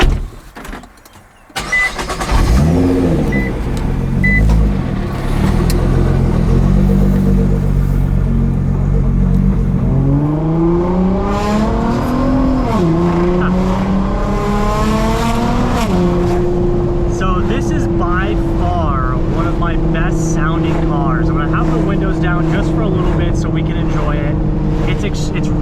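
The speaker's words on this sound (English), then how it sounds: "as far as turbo noises and the noises that you want from a car, from a turbo car, modified car, this checks all the boxes" A modified 700HP Nissan R35 GTR with a turbo engine roars along a canyon road. After a door thump the engine climbs loudly through the gears in rising sweeps, then settles into a steady, heavy drone.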